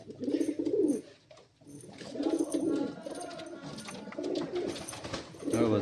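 Pigeons in a loft coo in repeated soft, throaty bursts, several overlapping calls close by with short pauses between them, with faint background rustle.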